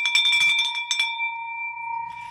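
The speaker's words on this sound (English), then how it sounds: "Let's ring that bell for Logan." A bell is struck in an office during a live real-estate wholesaling show to celebrate a closed deal, giving a bright ringing tone that rings on and slowly fades, partly under brief cheering and voices at the start.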